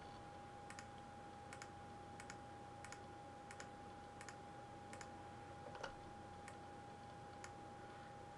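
Mouse clicks on a computer with the shift key held down: about a dozen faint, sharp clicks at uneven intervals in a quiet room, with no talking.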